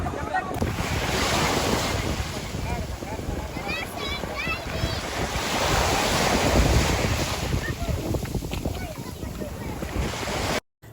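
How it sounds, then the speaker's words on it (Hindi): Surf breaking along Korian Beach near Karachi, a steady roar of waves and wind buffeting the microphone, loud and continuous for about ten seconds, with faint bird calls briefly audible and a sudden cutoff at the end. "लहरें इनसे टकराती हैं"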